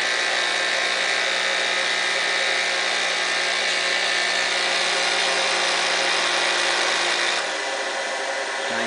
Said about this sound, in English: Grinding spindle, quiet as can be.